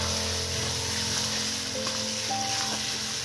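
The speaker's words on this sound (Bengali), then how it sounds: "বন্ধুরা এবার দেখুন, এই মশলার সাথে মটনটা ভালো করে একদম কষে নেবো।" Mutton sautéing with spices in a pan for a mutton and potato curry, giving a steady, close sizzle and frying hiss that runs throughout under a faint low background hum.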